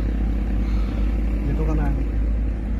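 A learner driver eases off the clutch in a family car, its engine giving a steady low rumble throughout while voices talk over it nearby.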